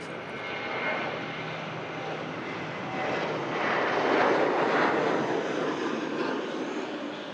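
An aircraft on final approach at Manchester Airport makes a steady, moderately loud broadband roar that swells slightly toward the middle of the pass, heard alone with no talking.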